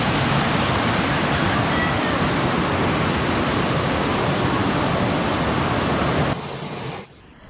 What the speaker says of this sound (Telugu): జలతరంగిణి వాటర్ఫాల్ చూడండి, మంచి ఫ్యామిలీ స్పాట్, మంచి పిక్నిక్ స్పాట్.